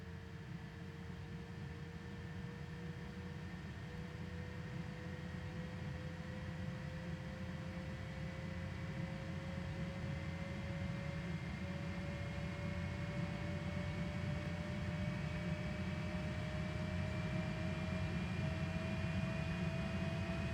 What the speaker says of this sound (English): Nice engine start sounds there.